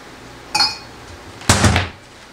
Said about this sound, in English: let me get another coffee cup